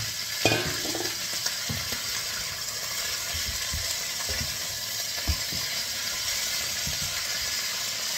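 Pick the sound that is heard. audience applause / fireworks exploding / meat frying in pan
meat frying in pan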